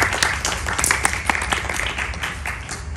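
Applause from an audience at a World Hindi Day celebration hall event, a steady dense patter of many hands clapping together, fairly loud and close, continuing without a break.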